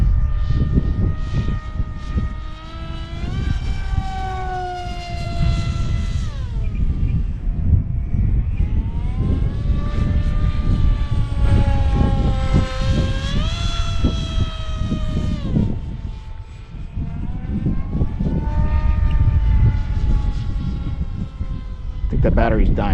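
An Astro Z 800mm RC pusher jet on a 4S battery flies on a windy day, its propeller whine rising and falling in pitch as it passes, with heavy wind rumble throughout and a voice talking over it.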